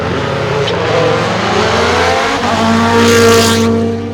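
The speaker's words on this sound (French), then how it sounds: "vous avez vu les premières voitures passer" Rally cars roar past at high speed, engines revving loud and close in a continuous surge of sound as each car sweeps by, with a sharp burst of noise near the end.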